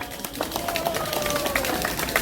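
Audience applause at an outdoor Korean union rally, a steady patter of many hands clapping together for a couple of seconds, fairly close and dense.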